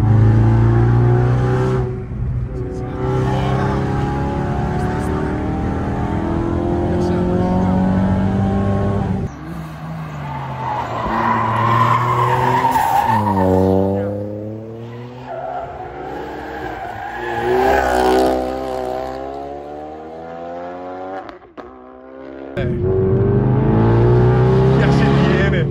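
A car is driven hard up mountain hairpin bends, its engine revving loud and close with brief tire squeals through the corners, while someone talks over it almost the whole time.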